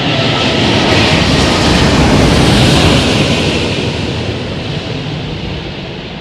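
An airliner lands at London Heathrow Airport, a loud, broad jet roar close by that holds steady, then slowly fades as the aircraft passes, with no voices.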